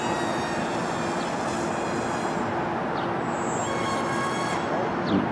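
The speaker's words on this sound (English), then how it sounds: "No, I think you're throttling up, Effie." Twin electric motors on a Crack Wing Twin RC airplane whine steadily, holding a dense, continuous buzz with slight pitch shifts as the throttle changes, close and fairly loud throughout.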